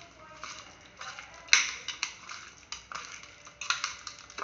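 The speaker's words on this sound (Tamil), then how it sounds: "இது எல்லாத்தையும் நல்லா மிக்ஸ் பண்ணிடலாம்" Chicken being mixed with turmeric, spices and lemon by hand or spoon in a bowl for banana leaf chicken fry, with soft repeated wet clicks and taps at an irregular pace, quiet and close.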